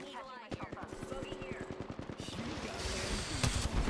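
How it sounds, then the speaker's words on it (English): Rapid automatic gunfire from a PC shooter video game, a steady stream of close, punchy shots rattling for several seconds, with a voice talking underneath. "Shooting at my damn teammates so damn much."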